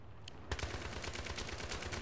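Rapid automatic fire from a G3A3 rifle in the Battlefield 3 video game bursts in after a brief quiet moment and continues steadily to the end, loud and close.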